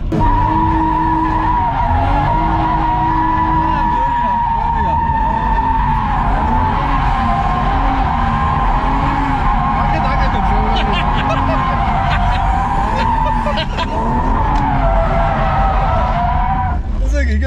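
A car being driven in a drift lets out a continuous loud tire squeal and skid that lasts throughout, with engine noise underneath. People talk over it from inside or near the car.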